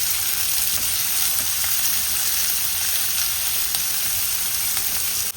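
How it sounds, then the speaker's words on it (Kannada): Chopped onion frying in a pan for mushroom curry gives a steady, close sizzle that crackles evenly throughout without any voice over it. "ಇವಾಗ ಹಚ್ಚಿದ ಒಂದು ಈರುಳ್ಳಿಯನ್ನು ಸೇರಿಸ್ಕೊಳ್ತೀನಿ. ಇದನ್ನು ಚೆನ್ನಾಗಿ ಫ್ರೈ ಮಾಡ್ಕೊಳ್ಬೇಕು."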